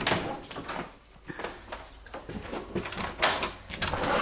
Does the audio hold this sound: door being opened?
yes